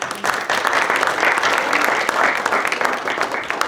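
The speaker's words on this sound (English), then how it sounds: "Please give them both a round of applause." Sustained audience applause at a gallery talk about James Baldwin, a dense steady wash of many hands clapping that carries on evenly from start to finish with no talk over it.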